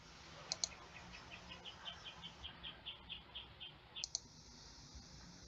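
Faint clicks from a computer mouse arrive in a steady run of about a dozen, with a few sharper double clicks at the start and near the end, all over a quiet background.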